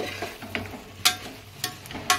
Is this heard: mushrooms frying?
yes